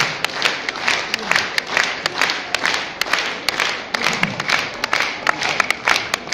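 A crowd claps steadily in sustained applause, dense and lively, with sharp individual claps standing out throughout.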